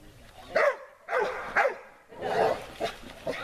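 A dog barks several times in short, uneven bursts near goats and other livestock, close by, with some yipping and whining between barks.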